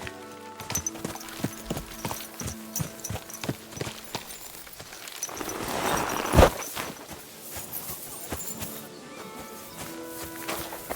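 Horse hooves clip-clop steadily in Kingdom Come Deliverance 2, the walking beat close and clear, with a louder thump and rustle mid-way as the horse stops.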